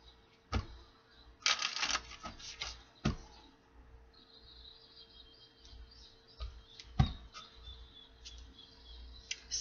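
Cards from the Island Time Wellness Love Oracle deck being shuffled, heard as a burst of soft riffling around two seconds amid scattered sharp clicks and taps, all fairly quiet and close, with no talking.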